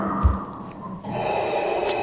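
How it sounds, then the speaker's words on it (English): Darth Vader's mechanical breathing from Star Wars, a single slow respirator inhale and exhale, hissing and fairly loud, heard alone. "you might be surprised that breathing of Darth Vader is also a trademark"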